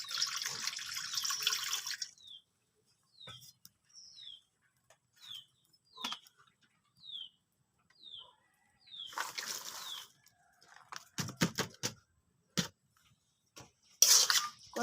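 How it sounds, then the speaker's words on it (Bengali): Water poured into a wok to boil taro flowers, heard as two bursts of running, splashing water at the start and again near the middle, with small clinks and knocks in between and after. "তার জন্য কড়াইতে পানি দিয়ে দিচ্ছি সিদ্ধ করার জন্য।"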